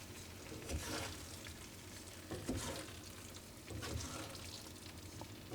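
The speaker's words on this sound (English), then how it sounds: "So let's get our cheese powder in here. And just get it stirred up." Ground beef goulash with cheese powder being stirred in a single pan, giving a soft sizzle with a few scraping stirs and small clatters, fairly quiet and without voices.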